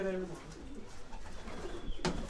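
Homing pigeons give soft, low cooing at close range in a short, quiet stretch, with faint voices nearby.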